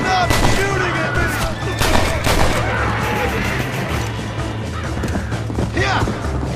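Dense, continuous gunfire fills a Red Dead Redemption firefight, overlapping shots and volleys crackling loudly throughout with a steady low rumble underneath.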